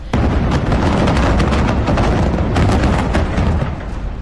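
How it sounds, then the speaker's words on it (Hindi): A high-rise building in Louisiana collapses with a loud, sustained roar of crashing debris and repeated booming cracks for several seconds, heard alone. "इमारत ढहने का आवाज सुनकर आसपास के लोग सहज उठे।"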